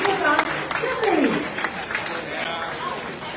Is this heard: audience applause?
yes